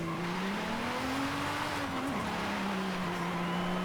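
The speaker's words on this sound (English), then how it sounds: "We'll have a few extra wheel spins with this thing." Car wheel spin in a racing video game, a sustained loud tire squeal over a droning engine whose pitch rises then drops briefly, continuous for several seconds with no talk.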